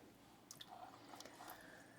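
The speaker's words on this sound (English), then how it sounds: "So I am squeezing all of the water out of my skeins and putting it in there" Wet wool handspun yarn skeins being squeezed out by hand, giving a few faint, soft squelches and drips in a quiet room.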